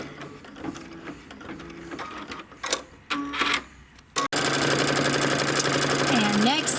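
An embroidery machine stitching straight stitches inside quilt petals runs in short bursts with frequent starts and stops, then settles into a steady, close mechanical whir of rapid needle strokes.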